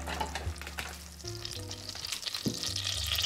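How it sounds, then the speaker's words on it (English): Butter melts and sizzles steadily in a medium saucepan, a close, quiet crackling fry with faint stirring, no voices. "inside the saucepan, you need to start with 3 tablespoons of butter"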